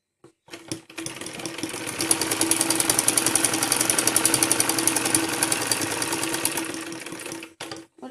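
Sewing machine running a straight stitch over cut-work fabric for a salwar hem, a loud, close, continuous rapid chatter lasting about seven seconds before stopping.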